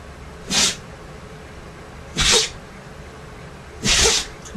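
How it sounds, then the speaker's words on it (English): A pet dog named Lola sneezes three times in a row, each a short sharp hissing burst about a second and a half apart, close and clear, with no talk. "This dog is having a sneeze attack."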